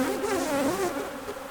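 Honey bees buzz around hive frames lifted out during an allotment hive inspection, a close, steady, wavering drone with no voices over it.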